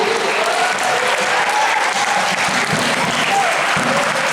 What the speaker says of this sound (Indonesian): Tepuk tangan diri kalian sendiri.